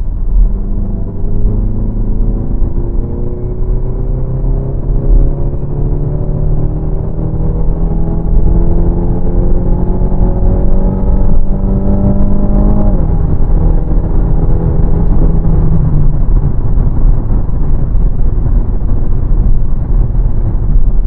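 A Renault Talisman 1.6 TCe with a 200 hp engine and EDC7 automatic gearbox accelerates at full throttle from about 70 km/h, its engine drone rising steadily, dipping briefly at a gear change, then climbing again under constant cabin rumble.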